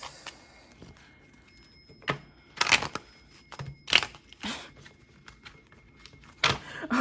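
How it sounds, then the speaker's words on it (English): Tarot cards being shuffled by hand, giving scattered quiet riffles, taps and thumps in irregular bursts against a faint room background, with no speech. "I'm gonna shuffle after this."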